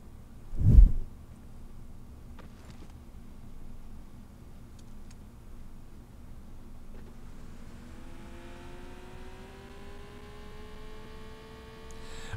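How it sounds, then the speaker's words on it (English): A snowmobile engine in PUBG Mobile revs up from about seven seconds, a steady rising whine that builds over a low idle rumble, with a brief thump near the start. "I've always wanted to see a Yeti driving a snowmobile."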